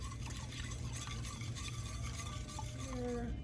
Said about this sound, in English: I'm going to give this a nice little whisk.